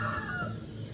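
A chicken clucks and starts a short crow in one brief burst, fairly close and clear in a rural morning setting.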